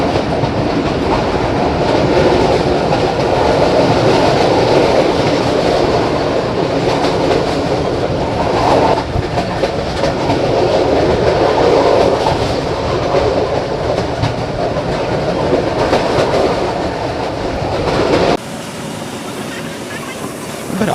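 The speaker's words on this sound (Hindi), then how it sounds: "बराज लाइन पर रन करते हुए ट्रेन जब चनियोट स्टेशन से निकलती है" The Pakistan Railway Miyanwali Express runs along the tracks at night, a loud, steady rumble with rhythmic wheel clatter throughout. Near the end the noise drops abruptly to a quieter level.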